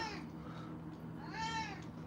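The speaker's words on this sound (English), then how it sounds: "that's my roommate's cat." A house cat meows twice in a kitchen, a short cry followed by a longer rising-and-falling meow, close and clear against quiet background noise.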